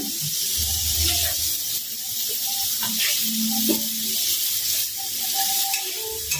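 Katla fish curry sizzles loudly in a pan while being stirred, a close, continuous hiss with irregular scraping and clanks from the utensil.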